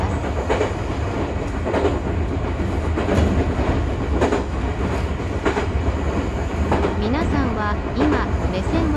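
A Chichibu Railway local train rolls steadily along the rails in Saitama with a constant low rumble and rhythmic clacking, faint voices murmuring underneath.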